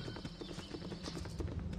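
Rapid, rhythmic clip-clop of horse hooves in the Baldur's Gate video game, a steady galloping patter close and prominent throughout.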